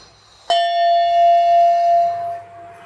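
A pure bronze vessel is struck once, giving a sharp metallic hit followed by a clear, sustained bell-like ring that slowly fades over about two seconds, close and alone.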